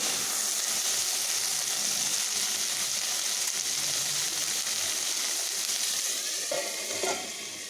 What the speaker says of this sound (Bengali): ভালোভাবে ভেজে নেব বরবটিগুলোকে আমি একটু ঢেকে ঢেকে ভেজে নেব